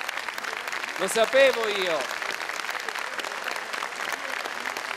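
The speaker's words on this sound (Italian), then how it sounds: "Vedi che applauso, guarda, senti là" Audience applause at an Italian singing festival, a steady wash of clapping throughout, with a voice and a brief sung or spoken phrase rising over it near the start.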